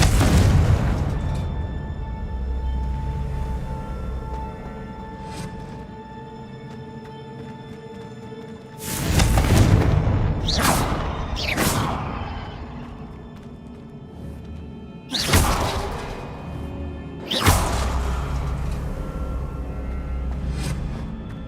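Several deep, booming blasts from the Confringo explosion spell in Hogwarts Legacy erupt at intervals, each a sharp loud burst that rumbles off, over a quieter background hum.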